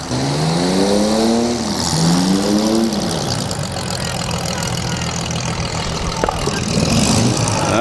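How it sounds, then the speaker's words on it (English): A demolition derby car at a county fair fires up and revs, its engine rising and falling loudly and close, with a sharp backfire pop near the end over crowd noise. "That thing just kind of backfired when he started it up."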